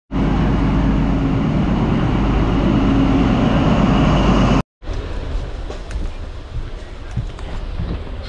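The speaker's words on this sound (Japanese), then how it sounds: "今回は列車で行きます。" A passenger train travelling from Sydney to Melbourne gives a steady, loud broadband rumble of wheels and carriage, cutting out briefly before resuming with rattles and clatter.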